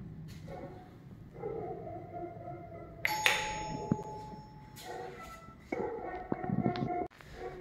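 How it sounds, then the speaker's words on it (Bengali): A home calling bell rings once, a clear sustained chime that stands out over low room noise and faint rustling, then fades within about two seconds. "চলো কলিং বেল বাজায়"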